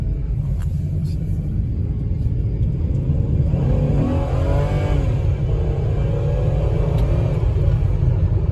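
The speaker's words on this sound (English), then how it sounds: "Let's go take it for a little bit of a test drive here just to make sure everything's good." A Kia Rondo on a test drive after a spark plug change, its steady low engine rumble and road drone filling the cabin throughout, with a brief rise in revs midway.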